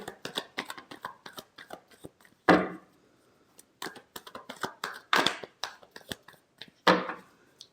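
Tarot cards being shuffled by hand, a quick series of papery riffles and slaps in uneven bursts with short pauses between, close and clear with no talking.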